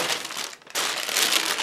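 A homemade beeswax wrap is peeled away from a surface with a continuous, close crinkling and crackling, dipping briefly in a short pause before the stiff waxed fabric crackles on, loud and alone.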